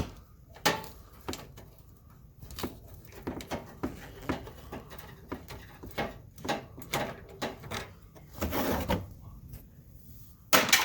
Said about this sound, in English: Bradley's now loosening the bolt on the side of the headlight